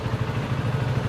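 A 2025 CFMoto 250 SR Lite motorcycle idles after a cold start, a steady low rumbling thrum that stays even and close with no revving.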